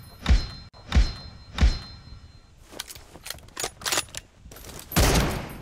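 In a PUBG Mobile team deathmatch between M24 sniper rifles, three sharp, booming shots ring out about a second apart. A looser run of quicker, clicking gunfire and impacts follows.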